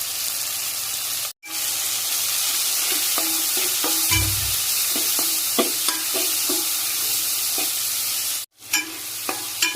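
Onions, garlic and tomato pieces sauté in a hot pan with a loud, steady sizzle, broken by brief ticks of stirring, with two sudden momentary cut-outs.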